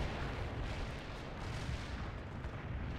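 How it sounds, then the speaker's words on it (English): Continuous heavy artillery fire in the World in Conflict video game, a dense rumbling barrage of booms blending into a steady roar with no clear gaps, loud and sustained throughout. "Fire the artillery there."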